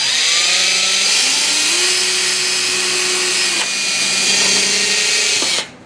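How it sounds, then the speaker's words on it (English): A power drill whines steadily for several seconds drilling holes in wooden kayak panels, its pitch rising and shifting as the bit bites in, then cuts off abruptly at the end. "you just drill the end holes in, find the bottom edge, and drill your holes"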